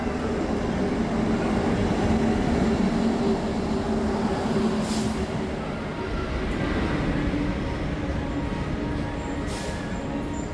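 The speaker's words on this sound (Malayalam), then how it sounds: "പന്ത്രണ്ട് മുക്കാലിന് ട്രെയിൻ വരും മംഗലാപുരം എക്സ്പ്രസ്" A Mangalore Express train arriving at a station, a continuous loud rumble of rolling wagons holding steady across the whole stretch, with brief higher screeches partway through.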